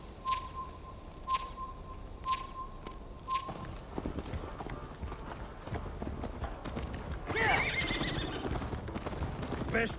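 In Assassin's Creed Valhalla, a horse's hooves clop rapidly and steadily at a gallop, with a shrill neigh rising partway through. Game sound and other noise run underneath.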